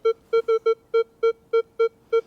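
A Minelab X-Terra Pro metal detector sounds its response to a piece of foil: a run of about ten short, clear electronic beeps at a steady mid pitch, evenly spaced and loud, with no talking.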